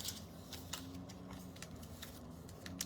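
Scissors snip through a craft piece in a series of faint, crisp cuts spaced across a few seconds, heard up close in a quiet room with no talking.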